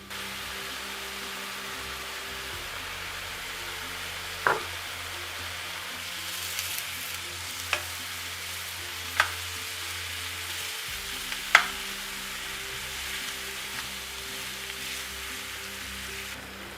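Butter sizzles in a pan for an apple tarte tatin, a steady soft crackle throughout with a few light clicks and taps of utensils on top.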